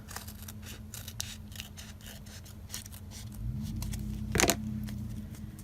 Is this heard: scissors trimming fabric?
yes